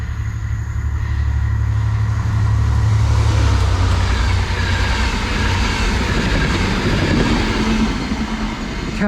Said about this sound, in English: It's a 67, and you can tell by Tay's arm, he's very, very happy. And it's on a driver test going to Crewe.